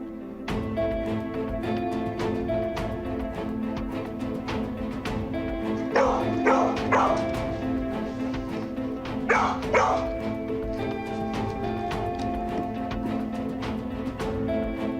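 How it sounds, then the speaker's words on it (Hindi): A dog barks in two short clusters of quick barks over a steady, humming background. The barks are moderately loud against it. "वरना डोडो उस तरह भौंकता नहीं"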